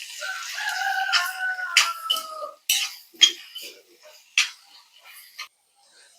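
A utensil stirs sliced onions and salt in a pan for an egg roast, with sharp metallic scrapes and clinks in irregular bursts between quiet gaps and a voice speaking briefly near the start.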